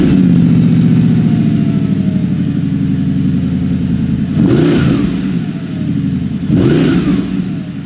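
A supercar engine revs loudly and close, with a deep, throbbing idle broken by two sharp throttle blips that swell and fall away.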